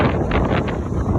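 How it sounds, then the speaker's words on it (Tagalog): Strong wind buffets the microphone as a January snowstorm approaches, a loud, continuous rough gust with no talk. "And it's windy too."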